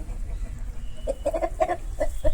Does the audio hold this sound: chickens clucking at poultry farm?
yes